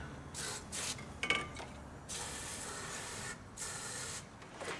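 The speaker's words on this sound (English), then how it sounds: "I have some brake cleaner here. I'm going to spray this in here to remove any water." Brake cleaner aerosol hissing in several bursts, a couple of longer sustained sprays into a car cooling system part to remove water, close up with faint mechanical clicks between them.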